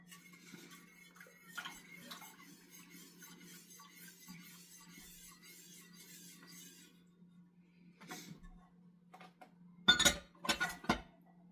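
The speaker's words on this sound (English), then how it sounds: "I'll use my whisk. I'm going to put in that heavy cream." A whisk works through heavy cream in a bowl with light metallic ticking and clinking, fairly faint, followed by a few sharper clinks toward the end.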